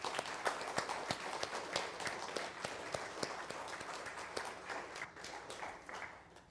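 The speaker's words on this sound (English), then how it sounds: "just to give them a round of applause here this morning" A church congregation applauds fathers during a morning service with a fairly faint, steady patter of many hands clapping that gradually tapers off toward the end.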